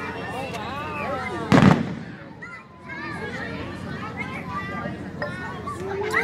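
Independence Day fireworks burst with one sharp loud bang amid a lively crowd, with people talking and children shouting throughout.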